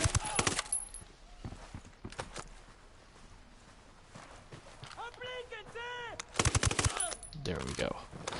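Machine gun fire in a PS4 video game, loud bursts of rapid shots in several clusters amid game sounds, with a person talking over the play.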